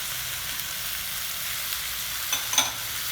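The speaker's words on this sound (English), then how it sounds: "Now I am adding some peeled and chopped potatoes, some peas, washed and chopped cauliflower," Potatoes, peas and chopped cauliflower sautéing in a pan give a steady, soft sizzle, with a couple of brief clinks or stirs near the end.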